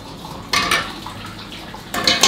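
Hot rinse water is poured from one container into a cooking pot during holiday meal preparation, giving two short sloshing, splashing bursts against metal with quieter kitchen clatter in between.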